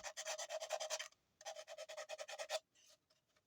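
Sandpaper rubs a solder seam on a sterling silver ring in quick back-and-forth strokes: two close bursts of about ten rasping passes each, a short pause between them, then a few faint scrapes.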